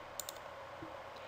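A computer mouse gives a faint, crisp double click near the start, followed by quiet room tone.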